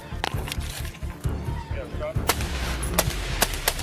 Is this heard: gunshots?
yes